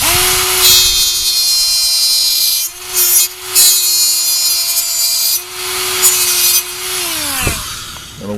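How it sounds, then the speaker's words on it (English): An angle grinder cuts a notch into the door panel of a 1978 El Camino, a loud steady whine that holds for several seconds, dips briefly twice, then winds down near the end. "So I'm just going to grind a little notch in here right now."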